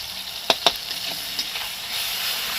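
Spices such as green chilli and cumin powder frying in a pan for shukto, a quiet continuous sizzle with two sharp utensil clinks early on and a light scrape later.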